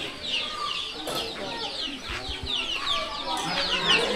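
Chickens cluck and chatter repeatedly in a flood-hit riverside char village near the Feni River, with a rooster-like call among them and people talking in the background.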